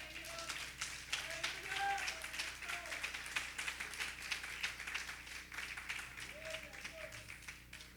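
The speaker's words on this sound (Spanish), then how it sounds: "Dele una ofrenda de palmas al Señor." Church congregation giving a steady round of applause during a worship service, soft distant clapping continuing throughout, with a few voices faintly underneath.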